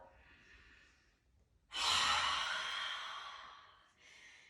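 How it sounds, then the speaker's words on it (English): A long, breathy exhale released through the mouth during a relaxing yoga session rises suddenly after a softer breath, stays strong, then fades, followed by a quieter breath. Close and alone. "exhale, release through the mouth"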